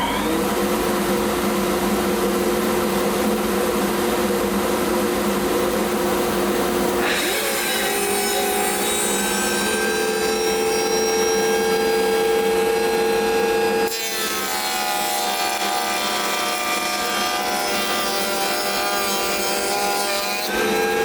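Saw cutting a scrap piece of plywood in a single pass, a loud steady rasping drone with a pitch change at seven seconds and again at fourteen seconds, continuous and close for over twenty seconds.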